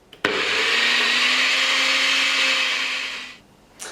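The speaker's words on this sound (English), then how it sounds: "Then we're going to put this into the blender." A blender whirs at full speed through wild garlic pesto with nutritional yeast, switching on abruptly, running loud and steady for about three seconds, then winding down, followed by a brief clunk.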